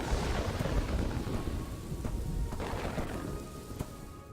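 Thunder rolls in the castle-building game Kingdoms and Castles, a loud rumbling peal over steady rain that gradually fades, with a few sharp crackles near the end.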